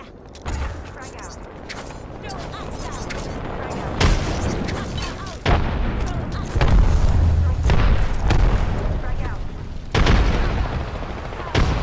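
A frag grenade explosion in a shooter video game, heard amid loud gunfire, mechanical clatter and booming impacts, with a heavy blast rising out of the ongoing chaotic combat noise while a player talks over it.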